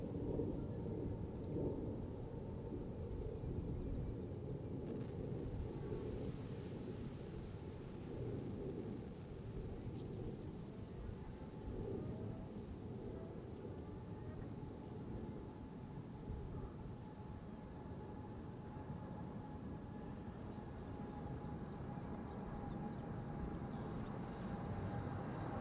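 A Boeing Dreamliner bound for Nairobi takes off at Amsterdam Schiphol Airport, a deep, steady engine roar with a faint whine, heard at a distance and sustained throughout.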